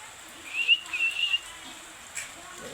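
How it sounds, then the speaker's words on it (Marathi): A hungry pet parrot gives a thin, whistle-like call that wavers for about a second, followed shortly by a brief chirp. The calls are moderately loud against a quiet indoor background. "आमचा मिठू पोपट पोपट त्याला भूक लागली भूक लागली भूक लागली"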